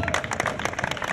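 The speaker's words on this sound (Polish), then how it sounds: "Wielkie brawa" Crowd applause at a Lubartów streetball tournament for the winning team, a brief burst of rapid close clapping.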